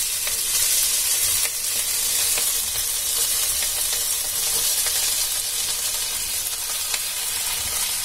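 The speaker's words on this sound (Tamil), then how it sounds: "இப்போ கறவேப்பிலையை போட்டுருக்கேன், அடுப்பை சிம்மில் வச்சுக்கோங்க." Curry leaves sizzle in hot oil in a pan on a low flame while upma is cooked, making a loud, even, hissing crackle that runs unbroken throughout.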